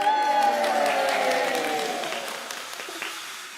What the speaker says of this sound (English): You can give Prudence a round of applause again